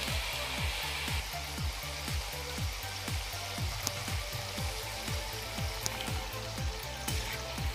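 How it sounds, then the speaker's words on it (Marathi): Shakkarpare dough pieces deep-fry in hot oil for Rajasthani crispy khurma, giving a steady, dense sizzle that runs close and loud throughout with no gaps. "आपल्याला हे शक्करपारे तेलामध्ये सोडायचे आहेत"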